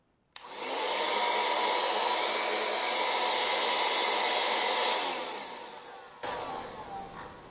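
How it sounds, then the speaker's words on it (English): A LICORNE cordless wet and dry vacuum cleaner switches on with a sudden start and runs as a steady whooshing whine, easing down in pitch and level before cutting out abruptly, followed by a brief fainter whir. "That's not too loud, to be honest with you, for a vacuum cleaner."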